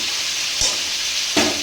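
Spice masala for shahi paneer frying in a pan: a loud, steady hiss of sizzling oil with two brief scraping stirs.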